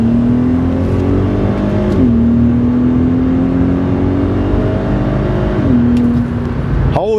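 A VW Golf R32 with a 3.2 litre VR6 engine accelerates hard from the cabin, its loud, steady engine tone climbing through each gear and dropping back at two shifts, then swelling again near the end.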